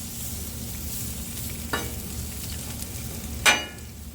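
Onions sizzle steadily on a Blackstone flat-top griddle, a soft continuous frying hiss with two brief scraping clatters of a spatula partway through, no voices.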